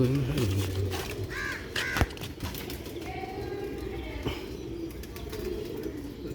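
Sialkoti pigeons coo and call against a busy, noisy background, with a couple of clearer bird calls near the middle.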